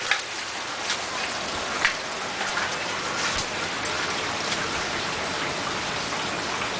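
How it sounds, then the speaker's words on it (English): Hail pours down during a storm in a dense, steady hiss of countless small impacts, with occasional louder individual strikes popping out close by. "the amount of hail coming down."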